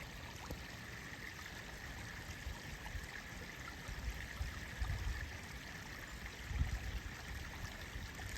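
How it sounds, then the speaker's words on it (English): A fast-flowing creek runs high and strong, a steady close rush of water with no talk. "And so that's the sound that you hear when you're sitting at the creek."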